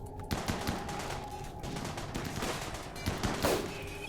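Dense automatic gunfire from the colony-sim video game RimWorld, fired at a scyther mechanoid beside a crashed ship part, rattles as continuous loud bursts throughout, with sharper shots standing out near the end.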